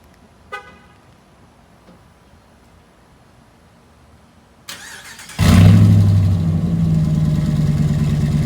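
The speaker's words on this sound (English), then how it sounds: "let's see what the cold start on a muffler delete would be" A quiet stretch with a faint click, then a 2019 Ram 1500 Classic pickup truck with a muffler delete cold-starts, roaring to life with a deep, loud, rumbling exhaust that settles into a heavy idle.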